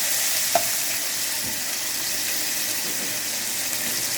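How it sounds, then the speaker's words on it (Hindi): Steady crackling sizzle of whole spices frying in hot oil for chicken korma, continuous and close, with a faint clink early on and no talking. "अब इनको थोड़ा फ्राई करके इसमें अदरक लहसुन और हरी मिर्चों का पेस्ट शामिल कर लूँगी"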